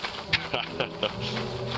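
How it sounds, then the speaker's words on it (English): Bees buzzing in a video game, a dense insect drone with sharp little bursts of activity over a couple of seconds, close and fairly busy, with faint talk mixed in. "Are those bees?"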